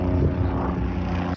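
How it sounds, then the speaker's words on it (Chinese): A Kiowa military helicopter circles over hills during an army live-fire training exercise, its engine and rotor making a steady, fairly loud droning hum that cuts off abruptly. "陆军航特部奇奥瓦战艘直升机盘旋山头"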